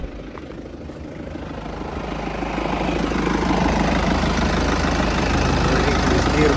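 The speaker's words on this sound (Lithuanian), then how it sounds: "Variklis dirba švariai." A BMW 520 with a 2.0-litre 135 kW diesel engine idles with a steady, low rumbling drone that swells slightly louder after the first few seconds and then holds constant.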